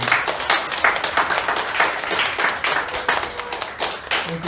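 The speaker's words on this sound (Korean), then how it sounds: "박수로 환영해 주시기 바랍니다." A church congregation at a Sunday worship service claps to welcome a new member, producing loud, continuous hand clapping that sounds near and fills the whole stretch.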